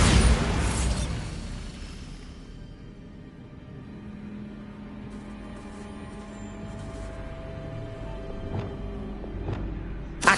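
A Bombarda blasting spell goes off in the Hogwarts Legacy video game: a loud close burst that rolls into a long rumbling decay, followed by quieter crackles and a few sharp pops near the end.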